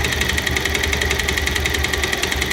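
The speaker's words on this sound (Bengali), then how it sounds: "এটি কিন্তু কানেক্টিং রডের সাউন্ড।" Up close, an idling motorcycle engine with a faulty connecting rod knocks in a fast, regular metallic tapping over its steady running drone.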